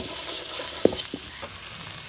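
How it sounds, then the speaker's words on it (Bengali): Prawns and chilli sautéed in a hot pan for a Bengali prawn dish, with a steady oily sizzle and one sharp spoon clink partway through, close by and with no talking. "লঙ্কাটা কষু তারপর চিংড়ি মাছটা এর মধ্যে দিয়ে আর একবার কষিয়ে নেব"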